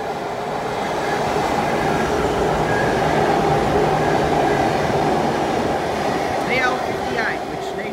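A VLocity train rumbles steadily through platform 2 at Carnegie station, its clattering wheels and motor drone filling the space, with faint squeals near the end.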